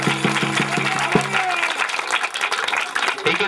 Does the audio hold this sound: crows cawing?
no